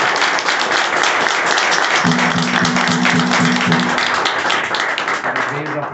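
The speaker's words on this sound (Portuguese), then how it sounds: "Uma salva de palmas por nós." A loud, steady round of applause fills a religious house gathering for two priests, sustained clapping heard up close with voices mixed in.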